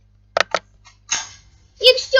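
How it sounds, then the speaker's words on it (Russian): TNT cannon explosions in a video game sound as a few short, sharp cracks and pops separated by silence, with a denser crackling burst near the end. "это просто бесконечная ТНТ-пушка"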